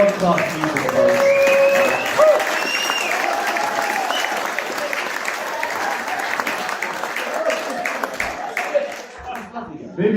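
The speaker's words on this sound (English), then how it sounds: "give these boys a huge round of applause because this is just world-class music" Sustained, dense applause from a live audience for folk musicians at a concert in Dunning, with voices and a few cheers mixed in, fading slightly toward the end.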